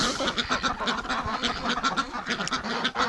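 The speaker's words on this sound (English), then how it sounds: "And you ducks go to bed early tonight." Breeding ducks quacking in a busy flock outdoors, a dense chorus of overlapping nasal calls, steady and moderately close throughout.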